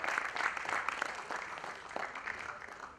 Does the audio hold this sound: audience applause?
yes